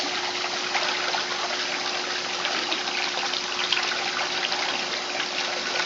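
A Maytag A50 washer agitates its wash with soap while a Simplicity twin-tub runs its spin rinse, giving a steady, close wash of churning, gushing water over a constant motor hum.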